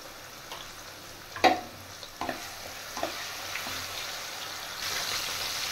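Small diced potatoes fry in oil with turmeric and salt, giving a soft, steady sizzle with a few distinct knocks and scrapes of stirring near the start, then a broader, slightly louder hiss toward the end. No speech.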